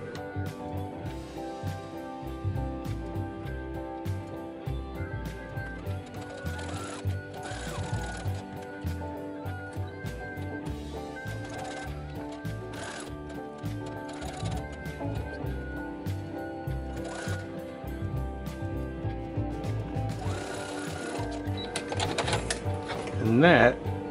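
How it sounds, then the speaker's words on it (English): A sewing machine chatters steadily through fabric for a Tusken Raider bandolier costume, running rapidly throughout while a person talks over it. "Try not to sew the fabric underneath."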